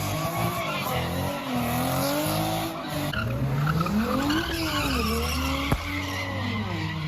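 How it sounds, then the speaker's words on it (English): Engines roar and rev while tires squeal and skid in long sweeping arcs, continuous and loud, with crowd noise faintly underneath. "drivers revving up and doing donuts"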